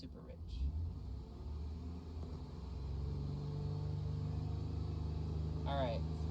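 A car engine is revved up to 3,000 RPM during oxygen sensor testing, its low rumble rising and then holding as a steady hum. A voice speaks over it, and a short squeaky chirp comes near the end.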